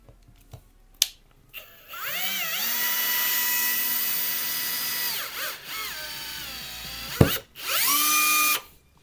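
Cordless drill driver with a PH2 bit driving a screw, close up: one long whining motor run, then two shorter ones, with the pitch rising and falling and sharp clicks in the gaps.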